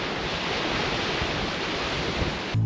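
Water pours at a waterfall in Idaho, running below full flow, giving a steady broadband roar that stays constant and fairly loud throughout, with a brief low rumble right at the end.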